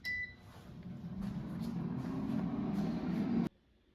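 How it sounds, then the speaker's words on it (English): An air fryer cooking orange roughy fish at 400 degrees gives a short beep at the start, then a steady humming fan whir that runs on and cuts off abruptly near the end, leaving near silence. "Now the air fryer is done cooking, so let's take a look."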